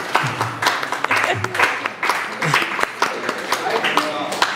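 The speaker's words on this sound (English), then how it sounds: "Clap for him so that he can run." Audience clapping at a WordCamp event in Masaka, Uganda, encouraging a man named Mr. Dumba Stephen to come up on stage: scattered, uneven clapping from a gathering, with voices talking and calling out over it.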